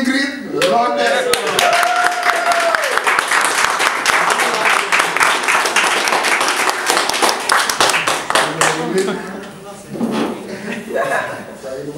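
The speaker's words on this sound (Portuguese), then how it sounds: "e recebi um forte aplauso para a Appreciation Award, senhora Ingrid Roder." An audience applauds an Appreciation Award recipient, dense sustained clapping from a crowd with a voice and cheers heard briefly, thinning out toward the end.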